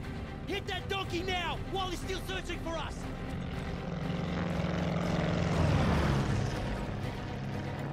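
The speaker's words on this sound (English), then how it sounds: "That's a plane!" Propeller airplane flying overhead in the World War II shooter game Call of Duty: Vanguard: an engine drone swells to a loud roar near the end and then fades, with voices talking over the first part.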